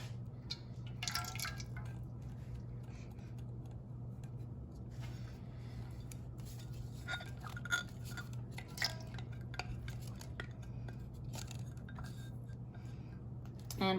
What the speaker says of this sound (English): we're just gonna whisk it really quick until it comes together